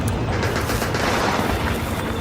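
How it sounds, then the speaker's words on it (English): Sustained battle gunfire and mortar fire roar in a dense, loud, continuous barrage with no pauses, from a stop-motion war film battle scene. "Mortar fire incoming!"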